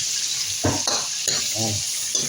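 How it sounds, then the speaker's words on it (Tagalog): Tomatoes frying in a pan are stirred, with a few separate scraping strokes of a utensil over a steady sizzle, close and fairly loud. "Lagyan natin maraming kamatis para mamula-mula."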